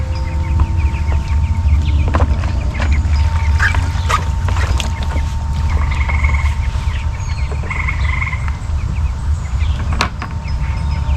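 Chickens clucking on a small farm with pigs, scattered short clucks and calls repeating over a constant loud low hum of running water or machinery.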